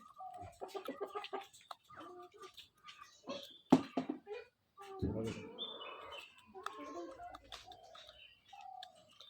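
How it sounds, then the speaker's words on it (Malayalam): Several hens cluck and murmur nearby in irregular bursts, mixed with people talking in the background. "കറുത്ത കോഴിയാ"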